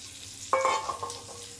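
Cauliflower and potatoes frying in oil in a pan give a soft sizzle, broken by one sharp metallic utensil clink with a brief ring and a few lighter scrapes after it.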